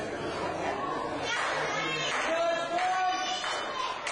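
Crowd chatter and murmuring fill an arena at a Wild Okanagan Wrestling event, a steady wash of voices with faint scattered claps, while a commentator talks over it.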